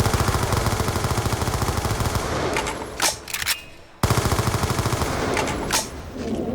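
Rapid automatic AK rifle fire from the Black Ops III video game, loud and close, in two long sustained bursts broken by a short pause and a few trailing shots.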